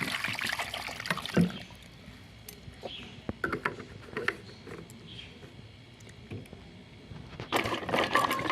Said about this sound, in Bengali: আমি তেঁতুলগুলো একটা পাত্রে তুলে নিচ্ছি ভালো করে ধুয়ে নেব তেঁতুল